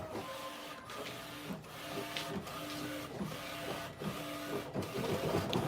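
An embroidery machine stitches out a patch in a small business workshop, with a steady mechanical whir and a regular rhythmic clatter that pauses briefly about every 0.8 seconds, heard close and alone.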